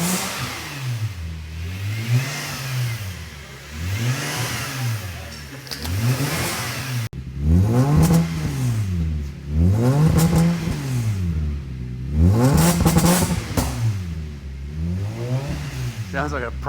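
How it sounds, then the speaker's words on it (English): A car engine on a P-plater build is blipped repeatedly from idle and allowed to fall back, about seven or eight rising and falling revs in an even rhythm, loud and close, with brief talk over it. "So I just want to go from idle, just big, just a stab, rev up, down, up, down."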